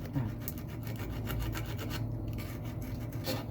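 Quiet, steady rasping as sandpaper is rubbed back and forth against a motorcycle wheel hub's bearing seat in quick repeated strokes, close up, with no talking.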